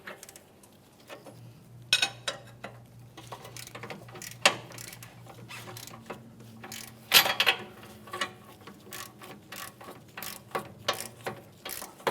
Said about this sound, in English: I'm going to use a 24mm wrench on one side, torque wrench on the other with a 24mm.